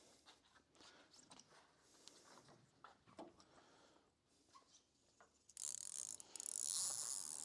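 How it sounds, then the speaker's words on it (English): Line runs through a shackle ratchet block on an Astus 14.5 trimaran, giving a series of close clicking ratchet sounds with some handling noise, ending in a louder burst of rustling. "when you pull on it with some resistance, it ratchets"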